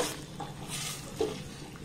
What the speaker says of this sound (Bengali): এই পর্যায়ে পটলগুলোকে আমি এখানে দিয়ে দেব। পটলটা দিয়ে আবার এটাকে আমি একটু ভালোভাবে কষে নেব।